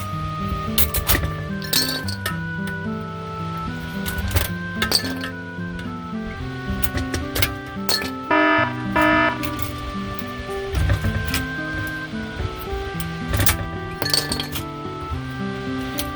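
Plastic buttons from a Seeburg 3W1 jukebox being restored drop into a glass jar, a long run of irregular bright clinks and rattles, close and clear, with no talking.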